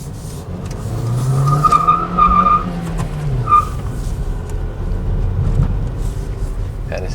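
Hyundai HB20 pulling away briskly from a standstill with a quick clutch release, engine revving up close over road and tire noise, with no voices over it.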